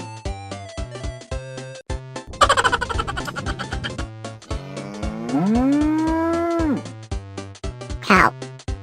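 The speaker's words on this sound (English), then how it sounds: "Cow." A cow moos in a long, loud, rising and falling call over a cheerful children's farm-song tune, with brief noisy bursts before and after.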